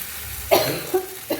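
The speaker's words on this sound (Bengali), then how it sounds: "চিমনি বন্ধ করে করছি তো তাই কাশি হচ্ছে বারবার" Three short coughs from a person cooking pasta at home with the kitchen chimney switched off, spaced about half a second apart over a faint background hiss.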